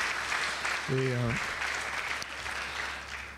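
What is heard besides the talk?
church congregation applauding worship team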